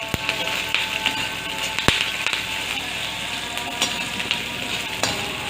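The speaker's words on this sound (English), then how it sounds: "And now we'll add our green chilies." Green chilies sizzle steadily in hot frying masala for fried rice, a dense continuous crackle with occasional sharp pops and light stirring clicks, close and alone.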